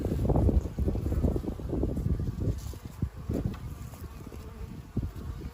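Honeybees buzzing close by at a small nucleus hive in a dense, wavering hum, with individual insects swelling louder as they pass near, over faint wind noise.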